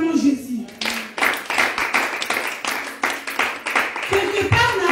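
A church congregation claps in a steady, rhythmic beat to acclaim Jesus, loud and close, with voices calling out over the claps.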